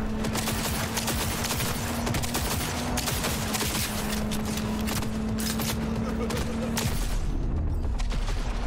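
Dense, continuous rapid gunfire in the game Cyberpunk 2077 with crackling bursts over a steady droning hum, loud and close, with someone talking briefly.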